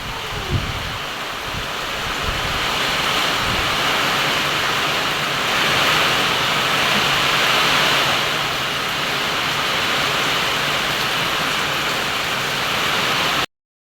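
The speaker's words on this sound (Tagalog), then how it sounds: "Lakas po ng ulan." Heavy rain pours down in a steady, loud, dense roar that fills the whole stretch, with wind adding surges, heard close and alone without voices.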